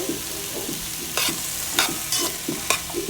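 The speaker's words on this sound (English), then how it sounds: "Now we are going to add the garlic." Garlic sizzling in a pan gives a steady crackling hiss, broken by repeated short scraping strokes of a stirring utensil.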